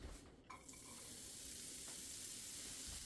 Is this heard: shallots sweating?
yes